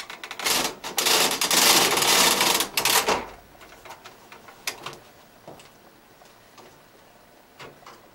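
A Bond knitting machine at work, its carriage rattling and clacking loudly across the needles for about three seconds, followed by scattered quieter clicks and knocks.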